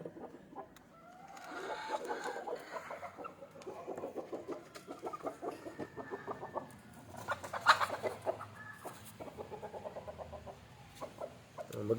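Native country chickens cluck and murmur continuously nearby, with several birds overlapping and an occasional louder squawk rising above the flock.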